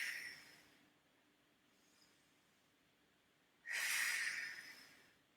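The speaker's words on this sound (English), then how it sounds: "Take your 3 deep breaths" Deep breathing during an ab workout: a slow, soft inhale, a long quiet stretch, then one loud, breathy exhale rushing out close to the microphone and fading.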